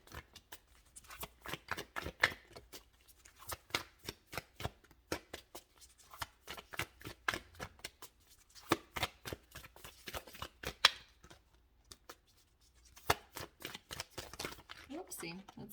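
Tarot cards being shuffled and handled, crisp flicks and riffling snaps arriving in quick irregular bursts with brief pauses, close and clear, while a person talks.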